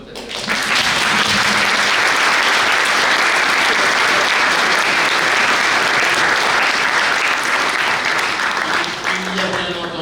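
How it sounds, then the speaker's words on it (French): An audience applauds at a talk: dense, loud, steady clapping from a full room, sustained for about ten seconds before easing slightly at the end, with faint voices mixed in. "on va applaudir d'abord peut-être."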